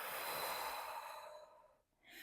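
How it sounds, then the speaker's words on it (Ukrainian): Forceful exhale during a chest-mobility breathing exercise, pushing air out from the belly: a long, loud breathy rush that gradually fades, followed by a short fresh breath at the end, close and alone. "Гарно випускаємо повітря, наче його виштовхуючи з живота вперед"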